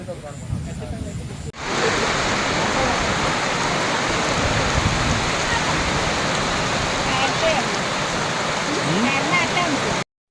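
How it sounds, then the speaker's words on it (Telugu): Heavy rain pours down at an elephant camp deep in a forest, a dense, steady roar that starts abruptly after a brief quieter moment and holds loud and unbroken to the end. "ఫుల్ వర్షం పడుతుంది ఇక్కడ"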